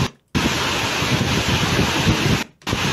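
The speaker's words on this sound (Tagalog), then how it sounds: "makikita po natin yung malakas na hangin" Loud, steady roar of strong typhoon wind in the Philippines buffeting the microphone, broken by a brief drop near the start and another near the end.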